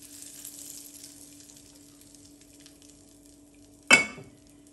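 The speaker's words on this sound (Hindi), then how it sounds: "अब तड़का हम डालने लगे हैं।" Hot tadka tempering for dhaba-style toor dal hits the pot in one sudden sharp sizzle that bursts loudly and fades within half a second, following a quiet stretch of faint kitchen clinks and low hum.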